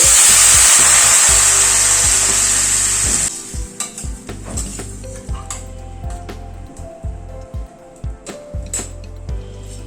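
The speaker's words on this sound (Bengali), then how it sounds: "এবার গরম জল অ্যাড করে দিচ্ছি।" A loud, bright hiss of hot water poured into a sizzling pan of pabda fish curry with capsicum lasts about three seconds, then settles into softer bubbling with intermittent knocks and scrapes of utensils.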